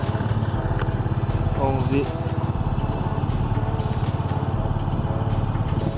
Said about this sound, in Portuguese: Deixa eu ligar a moto aqui